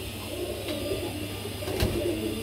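Grizzle pigeons, including an Afsan grizzle, cooing in a low steady murmur at a pigeon seller's loft, with a few faint knocks nearby.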